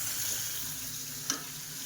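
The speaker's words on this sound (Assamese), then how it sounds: "এই মাছখিনি অকণমান ফ্ৰাই কৰি লৈছোঁ।" Fish frying in a pan sizzles at a quiet, steady level with a soft hiss, and a single brief clink or tap comes near the end.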